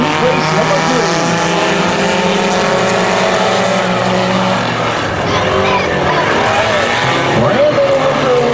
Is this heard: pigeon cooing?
no